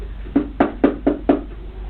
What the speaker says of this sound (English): I'll knock on my box, you knock on your box